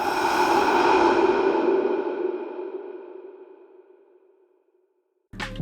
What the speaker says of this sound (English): The whole thing is just being processed with some reverb and a bit of echo, and together the death sound sounds like this.